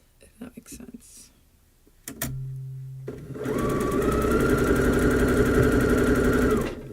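Home sewing machine running steadily at speed for several seconds, a loud rapid mechanical whir and clatter, preceded by quiet handling noises and a brief low hum.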